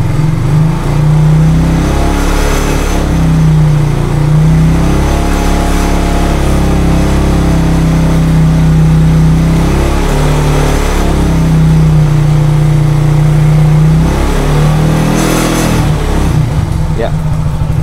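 A Honda Tiger motorcycle engine revs repeatedly to high RPM, loud and close, with rising and falling swells over a steady idle and someone talking over it.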